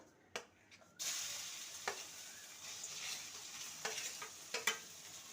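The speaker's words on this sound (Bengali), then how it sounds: "তেলটা গরম হয়ে গেছে গ্যাসের ফ্লেমটাকে লোতে করে দিয়েছি এবার যে মিশ্রণটা ডিম আলুর মিশ্রণটা কড়াইয়ের মধ্যে দিয়ে দেবো" An egg and potato mixture is poured into hot oil in a wok over a low gas flame. After a second of near silence it bursts into a steady sizzle, punctuated by a few sharp scraping stirs from a spatula.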